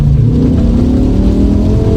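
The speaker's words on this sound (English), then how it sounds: "I'm literally almost fishtailing when I put that gas down" A BMW M5 E60 fitted with a Sprint Booster V3 pulls hard under acceleration, a loud, close, continuous engine roar with a rising drone and no talk.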